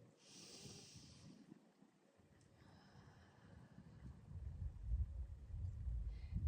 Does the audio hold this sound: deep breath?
yes